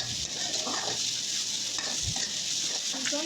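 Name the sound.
frying cooked brain in a pan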